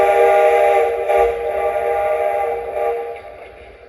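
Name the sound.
model train whistle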